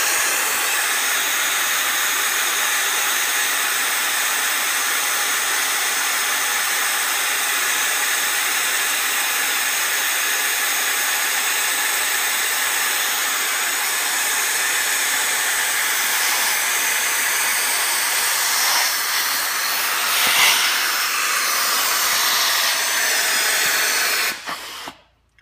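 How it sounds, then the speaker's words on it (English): Compressed air from an SCBA bottle rushing through a regulator at about 120 PSI to inflate a Ritcraft inflatable boat, a loud continuous hiss lasting over twenty seconds before cutting off abruptly. "I've used an SCBA bottle. I did it on, so I'm 120 PSI into the bottle, into the regulator"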